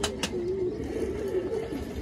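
A pigeon coos in a loft on a rainy day, a low soft throaty warble held across the moment, fairly close, with faint background noise and no talk.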